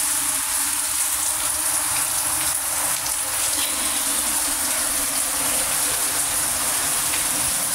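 Evening rain falling steadily on a balcony crowded with potted plants, a dense, even hiss of drops that holds without pause, no voices.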